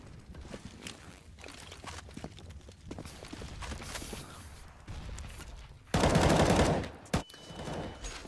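Gunshots ring out in a Counter-Strike: Global Offensive match on the Inferno map, scattered sharp shots and footsteps giving way to a loud sustained burst near the end, then a few trailing sounds.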